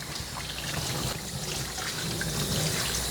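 Running water rinses a Yorkie during a full grooming, a steady close splashing and trickling that continues unbroken throughout.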